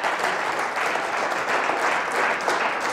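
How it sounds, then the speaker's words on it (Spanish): Steady, dense applause from a church congregation, continuous clapping at an even loudness across the whole stretch with no voices standing out. "Pues denle el aplauso a la gloria de Dios."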